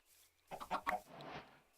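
Several chickens in a modded farming video game give short clucks in a quick burst of three or four calls, then a softer fowl murmur trails off, fairly close with no talk over them.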